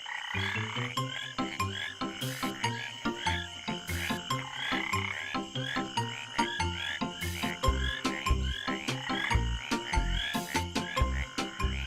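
Tree frogs croak loudly and repeatedly in a dense, rhythmic chorus of overlapping calls, close and continuous with no other sounds.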